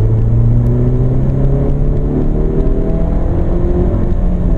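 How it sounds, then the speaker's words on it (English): A 2016 Range Rover Evoque Convertible's 240-horsepower 2.0-litre Si4 engine revs and climbs in pitch, the whine rising in steps as it accelerates, loud and close. "We hear better this engine."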